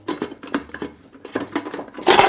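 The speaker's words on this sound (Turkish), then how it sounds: "Düdüklü tencereyi hemen şuraya getireyim yanıma." A metal pressure cooker is brought over and set down on a kitchen counter, producing a few close clanks and knocks of pot and lid, ending in a louder metallic clatter.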